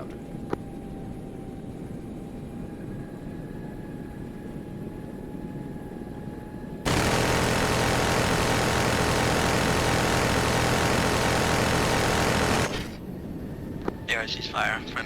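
Helicopter engine and rotor noise from a military video game, a steady loud roar that cuts in abruptly mid-clip, holds for several seconds, then drops away, with quieter ambient hum and radio-style chatter around it.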